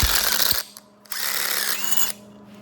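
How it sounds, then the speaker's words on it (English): A power tool chasing threads back out of holes while working on a 1949–51 Mercury, two whirring bursts, one short and one longer, with a brief pause between them, close and loud. "these are just chasing the threads back out"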